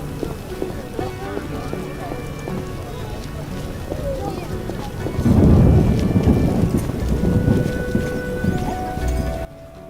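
Rain and thunder in The Witcher game, with a steady wash of rain, low rumbling swelling loudly midway, and scattered melodic tones and clopping around it before a sudden cutoff near the end.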